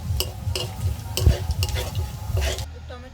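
Dried red chili and panch phoron spices tempering in hot oil for a vegetable curry, crackling sizzle with quick rhythmic stirring strokes, close and alone.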